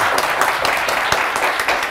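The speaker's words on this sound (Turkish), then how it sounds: "hak ettiğiniz bir alkış daha." Studio audience applause on a Turkish TV word quiz show, a close, steady wash of clapping with a few sharper individual claps throughout the short stretch.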